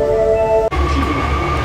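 Inside a Japanese commuter train running from Tsutenkaku to Osaka Castle, close rumbling carriage noise with a whining motor tone that abruptly drops and shifts partway through.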